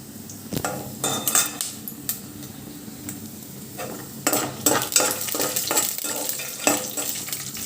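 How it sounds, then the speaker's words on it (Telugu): Almonds frying and being stirred in a pan for atukula upma, with steady sizzling and repeated scraping, clinking strokes of a utensil against the pan. "అంటే బాగా వేగాలి కదండి, అందుకని బాదం పప్పు కూడా వేసేసుకుని"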